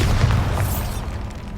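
The Bombarda spell in Hogwarts Legacy sets off a heavy, booming explosion that hits at once, rumbles loudly, and fades a little over a second and a half.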